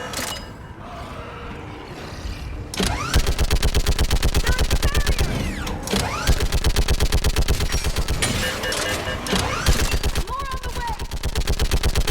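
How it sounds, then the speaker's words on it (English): Rapid automatic fire from a mounted gun in the video game Mass Effect 3, a loud continuous rattle of shots that runs almost without pause after a quieter opening, with a voice calling out over the gunfire. "Get on that gun up there and do some damage!"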